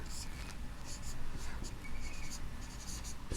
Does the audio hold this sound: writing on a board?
yes